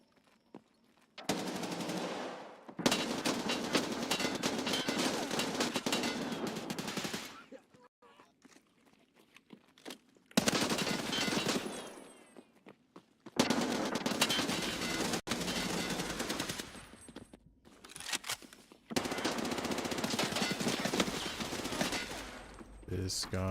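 Gunfire in the video game Escape from Tarkov, long bursts of rapid automatic fire broken by pauses, loud and close, with the player talking in between.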